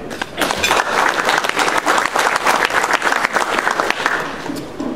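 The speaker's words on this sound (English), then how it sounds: "I'd like to give a round of applause to Mr. Dave." A room of guests at a high school football awards luncheon claps loudly and steadily, a dense, close round of applause that holds for the full few seconds.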